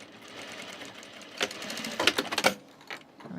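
A sewing machine stitches a men's button-up shirt in short bursts, a quiet hum at first, then rapid mechanical clatter building in the middle before easing off.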